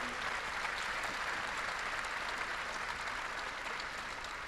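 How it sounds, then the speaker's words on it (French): An audience applauds in a steady, even wash of clapping that carries on throughout at moderate distance, with no voices standing out. "Je crois qu'on a envie de t'applaudir pour ça aussi."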